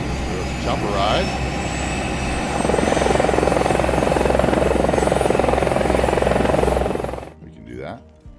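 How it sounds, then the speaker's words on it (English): A helicopter flies in the city-building game Cities Skylines, its loud, steady rotor and engine drone holding and swelling before dropping away abruptly near the end. "Get to the chopper!"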